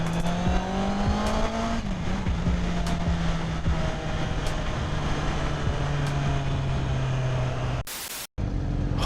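A motorcycle shifted into second gear pulls away, its loud engine tone climbing then holding steady under a wash of wind noise, before a short burst of harsh static and a sudden cutout near the end.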